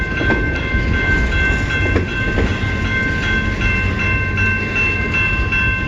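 A long CN freight train rolls steadily past on the tracks, loud and close, with continuous rumble, wheel clatter and high sustained squeal tones.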